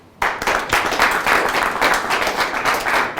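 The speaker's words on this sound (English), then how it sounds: "please give a big round of applause as we welcome David Bennett to the stage" A room of guests at a business leaders' awards event breaks into applause for a speaker taking the stage. The clapping starts suddenly and holds steady and fairly close, a dense wash of hands with no talk over it.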